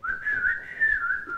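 A person whistles a steady, sustained call, imitating the street whistle signal friends once used to call one another at night, clear and close with no talking.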